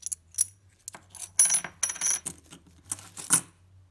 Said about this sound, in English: Mexican silver 1 peso coins.